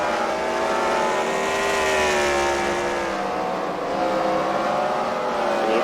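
Race car engines in a CWRL Fight Night event at the Freedom Factory rev hard on the track, a continuous loud roar with shifting pitch as cars work through turns.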